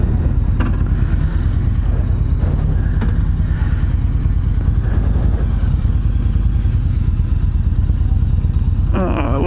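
A 2018 Yamaha Venture motorcycle engine runs after starting, a loud, steady, close rumble throughout with occasional clicks and a brief higher sound near the end.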